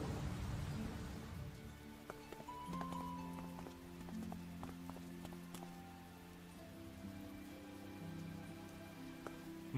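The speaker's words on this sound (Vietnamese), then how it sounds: "sáng hôm sau đã mưa lớn như vậy. Mưa một mạch mấy tiếng đồng hồ luôn" Heavy steady rain pours down in the morning, a continuous dense hiss of drops drumming on surfaces with scattered heavier drips, steady throughout with no talking.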